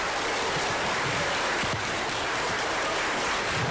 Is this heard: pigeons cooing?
no